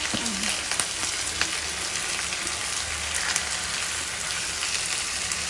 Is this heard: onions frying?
yes